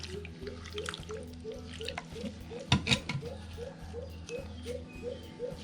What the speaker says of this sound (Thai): เราก็รดน้ำให้ชุ่มเลยค่ะ